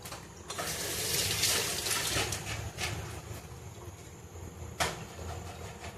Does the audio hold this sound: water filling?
yes